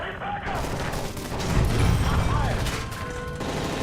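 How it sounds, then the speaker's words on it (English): Rapid bursts of Call of Duty Modern Warfare 3 gunfire with a constant noisy wash of explosions and action effects, loud and continuous throughout. "That's gunfire!"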